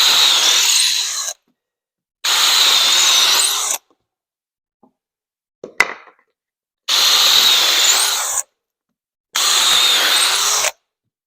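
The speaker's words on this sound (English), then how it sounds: "just need to drill 2 countersinks" A power drill bores two countersinks into wooden blocks in a woodworking shop, sounding as four loud, close bursts of whining drilling separated by silent gaps, with a brief clatter in between.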